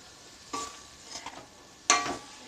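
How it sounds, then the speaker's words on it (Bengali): Chana dal stirred and fried in a pan with a little water: two short bursts of hissing sizzle a second or so apart, with faint stirring scrapes between, quiet and close, no talk. "ডালটাকে ভালো করে আরও কষে নিতে হবে।"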